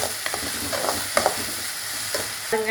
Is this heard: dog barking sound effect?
no